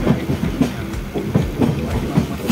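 A train passes at night, its wheels beating a loud, close, rhythmic clickety-clack on the rails over a steady rumble.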